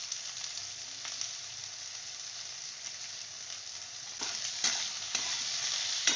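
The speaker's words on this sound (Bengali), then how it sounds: "বেগুনগুলোকে একটু আমি ভেজে নিচ্ছি" Eggplant pieces sizzle steadily in a hot pan for a Bengali vegetarian greens dish, with a continuous frying hiss broken by a few sharper crackles and stirring bursts near the end.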